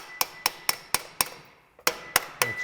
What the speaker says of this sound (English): You hammer and you put the dolly underneath and then hammer the metal.